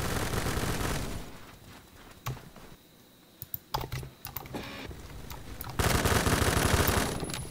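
K2 rifle fire in the game Phantom Forces comes in rapid automatic bursts, loud at the start and again near the end, with scattered single shots and quieter clicks in the gap between.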